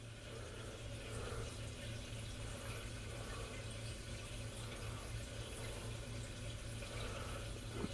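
A liquid mixture poured over a bread and butter pudding gives a steady, continuous splashing flow, moderately close, that runs evenly for the whole stretch with no talking.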